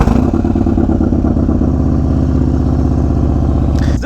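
A 2021 Harley-Davidson Street Bob 114 idles after starting, a loud, close, lumpy V-twin beat with steady rapid pulses, followed by a brief clatter near the end.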